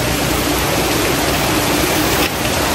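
Heavy typhoon rain pouring steadily in a dense, loud hiss with strong wind, continuous and unbroken throughout with no voices.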